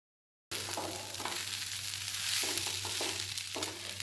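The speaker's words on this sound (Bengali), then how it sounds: "এভাবেই চালগুলোকে ভেজে নিতে হবে, যাতে চালগুলো সেই মশলার জলগুলোকে ভালো মতন অ্যাবজর্ব করতে পারে।" Rice fries with spices in a pan for prawn pulao, a close, steady sizzle with soft stirring scrapes that starts after a moment of silence.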